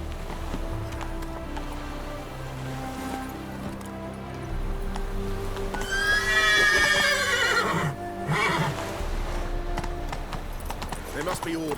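A horse in The Witcher 3 gives a loud, shrill neigh in the middle of the clip over steady trotting clip-clop hoofbeats and game ambience, and voices speak.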